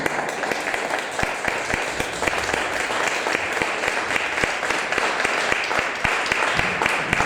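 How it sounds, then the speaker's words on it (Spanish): Church congregation applauding during a Spanish-language sermon, a dense, steady wash of many hands clapping with sharper individual claps standing out, sustained at even loudness throughout. "¿Le puedes dar un fuerte aplauso a Dios?"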